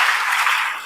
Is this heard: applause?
yes